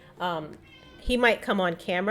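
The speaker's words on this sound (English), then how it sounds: "I don't know if you can hear him meowing in the background" Kenzo, a 12-year-old domestic shorthair cat who is a little hard of hearing, meows repeatedly nearby, several drawn-out, rising and falling calls overlapping a person talking.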